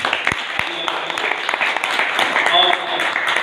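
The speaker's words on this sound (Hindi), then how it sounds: "इसलिए आज फिर से एक बार जोरदार ताली बजाएं।" Audience applause at a Bhagavad Gita study group gathering, dense clapping from a seated crowd with a couple of sharp knocks early on and voices mixed in.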